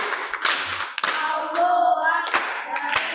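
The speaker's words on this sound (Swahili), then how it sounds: "na tumpigie makofi." Audience clapping hands at a Swahili talk on raising children in boarding schools, a brief burst of scattered claps mixed with voices and room noise.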